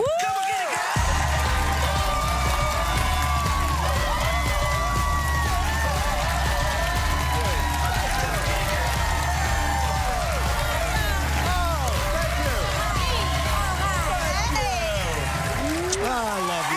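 A television talk-show studio audience cheers and whoops loudly as a guest walks on, a dense continuous roar with music beneath and voices talking over it.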